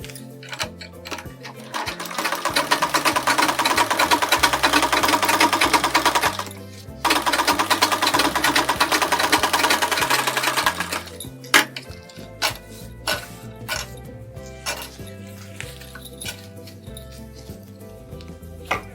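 A sewing machine stitches a model sleeve on a blouse, running loud and close in two long, fast mechanical runs, then slowing to scattered clicks and short ticks.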